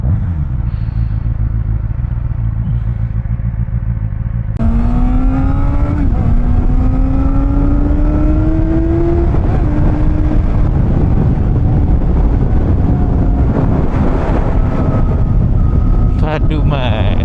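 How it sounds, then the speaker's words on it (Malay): A Kove 450R four-cylinder naked motorcycle engine roars loudly and steadily, its pitch climbing as it revs through the gears, with faint voices underneath. "4 silinder Japan ni lagi meraung tau."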